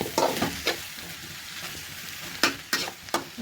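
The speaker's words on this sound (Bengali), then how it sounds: "পেঁয়াজের কলি ভাজি হয়ে আসছে, আর একটু হবে।" Onion stalks frying in a pan, a soft sizzle under repeated scraping stirs of a spatula, a few strokes early and a cluster near the end, close by with no talking.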